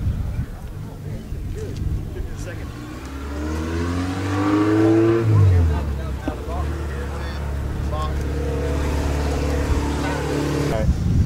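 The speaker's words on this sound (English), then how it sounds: "This is the Brutal Speed and Tuning 98 Dodge Neon SRT4 swap with automatic transmission and 71mm." A 1998 Dodge Neon SRT4 swap with automatic transmission, turbo and built motor runs at a drag strip, engine rising in pitch as it revs then settling to a steady drone, with talk over it.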